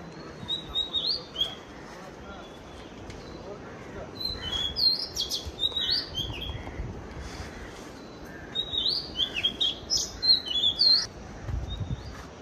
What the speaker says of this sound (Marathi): ते पक्ष्यांचा आवाज येतो मस्तपैकी.